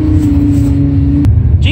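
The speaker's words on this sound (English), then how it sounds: "Jesus Christ, we're in a Lamborghini" A Lamborghini drives on ice, a loud, steady engine drone heard from close by inside the car, ending with a brief sharp click.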